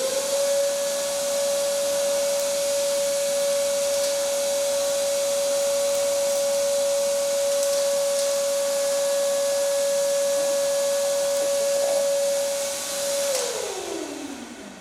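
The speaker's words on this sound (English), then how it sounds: "So let's test and see how is the suction performance." An INGCO cordless vacuum cleaner runs at full suction with a steady, loud whine and airy hiss held for many seconds, close up, before the motor winds down at the end.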